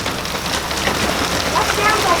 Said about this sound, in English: That sounds like hail.